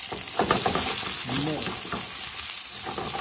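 Green and red peppers with onions sizzle steadily in a hot pan while cooking lasagna fixings, with bursts of stirring and a brief quiet voice partway through.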